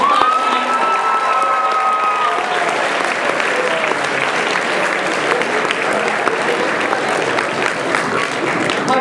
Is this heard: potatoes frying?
no